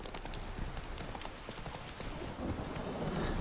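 The horse Roach galloping in The Witcher 3, with a steady, close, continuous drumming of hoofbeats that swells slightly toward the end, heard without talking.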